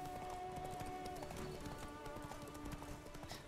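Roach, Geralt's horse in The Witcher 3, galloping with steady rapid hoofbeats over a held musical drone, moderately close and fairly quiet.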